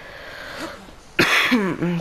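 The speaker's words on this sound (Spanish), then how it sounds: "Tengo un poquito de tos" A single short cough bursts out loud and close, followed by murmured vocal sounds, with faint talk and game noise before it.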